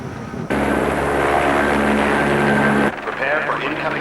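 A helicopter approaching a loading bay, its rotor and engine roar rising suddenly and loudly for a couple of seconds before cutting away, with speech around it.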